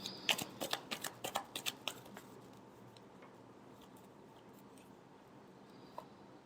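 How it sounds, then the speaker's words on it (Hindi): Tarot cards being shuffled by hand, a quick burst of crisp, papery flicks and snaps over about two seconds, then fading into quiet room tone with one faint tap near the end. "Last shuffle."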